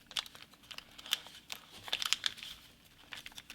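Origami paper being folded by hand into a turtle model, with close, quiet crinkling and sharp crisp creasing rustles in irregular bursts, no talking.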